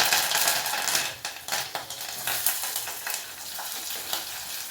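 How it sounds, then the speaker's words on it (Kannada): Curry leaves and onion frying in hot oil in a pan make a steady, close hiss and crackle with a few stirring scrapes. The sizzle is loudest at first and eases off slightly. "ಕರಿಬೇವಿನ ಸೊಪ್ಪು ಈರುಳ್ಳಿ ಹಾಕೋತಾ ಇದ್ದೀನಿ"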